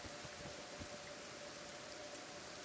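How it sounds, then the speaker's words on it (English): Acid rain falls in the game Kenshi, a soft, even hiss of steady rainfall with a few faint drops, heard alone at low volume. "Oh, acid rain."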